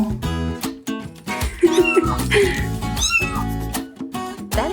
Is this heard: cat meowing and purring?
yes